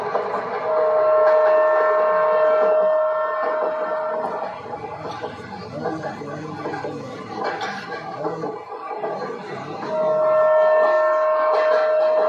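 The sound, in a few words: Yesvantpur Express train approaching on the down line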